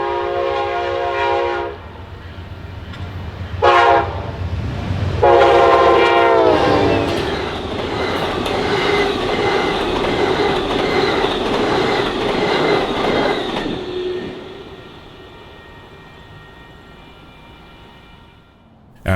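Amtrak's southbound Coast Starlight passenger train, led by a Phase 1 Heritage Unit, passes near Albany with several loud horn blasts up front, then a long steady roar and clatter of cars rolling by, fading at the end.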